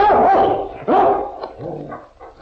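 A dog barks and snarls as it attacks in a 1951 old-time radio spy drama, a burst of close, loud, rough barks and growls over a couple of seconds.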